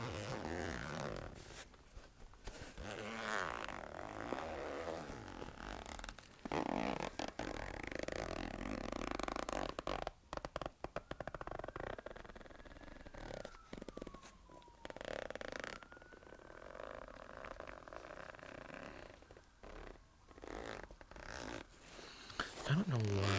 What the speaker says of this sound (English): And then you got the back zipper here for bigger things